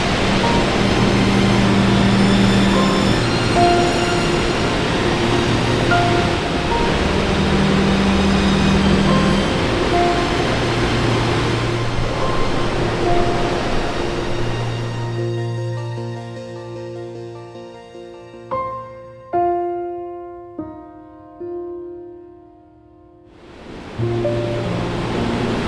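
Sanga Falls in Shosenkyo Gorge in autumn gives a loud, continuous rushing roar of falling water for most of the stretch, then drops away and gives way to plucked music notes near the end.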